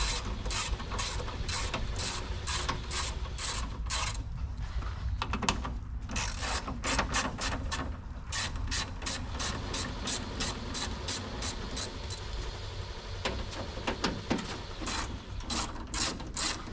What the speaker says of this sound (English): I think I'm going to need a wrench for that one.